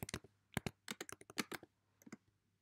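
Code being typed on a computer keyboard, a quick burst of crisp close keystrokes in uneven rhythm, ending with a few scattered taps.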